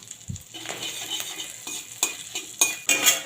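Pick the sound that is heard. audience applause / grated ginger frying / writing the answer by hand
grated ginger frying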